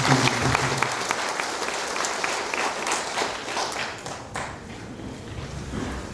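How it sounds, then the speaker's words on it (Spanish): Audience applause welcoming a speaker to a talk at a university, steady clapping from a crowd that fills the room evenly from start to finish. "Con un fuerte aplauso, por favor, les recibimos"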